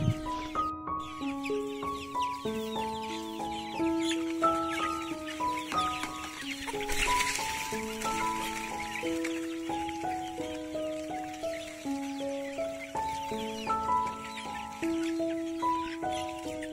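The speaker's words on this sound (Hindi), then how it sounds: "ये मुर्गियाँ बहुत ही अच्छी तरीके से और फटाफट ये दाना खा रहे हैं।" Hens crowd around freshly mixed homemade feed and peck at it, with steady clucking and short calls continuing throughout over background farm noise.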